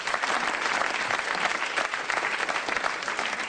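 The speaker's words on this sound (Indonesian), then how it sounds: "tepuk tangan dulu yang meriah." Loud, dense audience applause from an indoor motivational seminar crowd, sustained evenly across the moment without pause.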